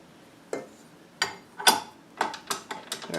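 Dough bowl and hook clicked into place on a stand mixer, a series of sharp mechanical clacks and ratcheting clicks, close and fairly quiet, with several irregular knocks over a few seconds.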